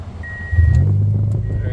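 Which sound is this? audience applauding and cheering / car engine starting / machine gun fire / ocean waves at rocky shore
car engine starting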